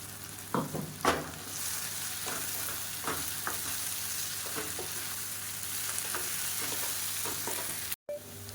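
Raw banana being roasted with ground spice powder in a pan for Madurai-style masala poriyal, giving a steady close sizzle broken by several sharp scraping stirs, with a brief dropout near the end.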